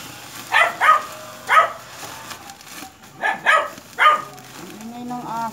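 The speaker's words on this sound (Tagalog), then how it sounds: "Ingay ng aso." A dog barks in short bursts, several sharp barks in two clusters, fairly close and loud, with brief pauses between.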